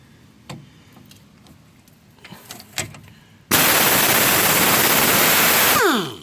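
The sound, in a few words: impact wrench removing 14mm bolt on Toyota Corolla strut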